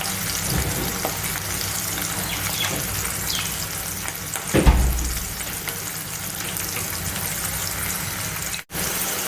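Onions and chillies sizzle steadily in hot oil for Kathiawadi-style corn chilli, a continuous close frying hiss with a brief louder burst midway and a short dropout near the end.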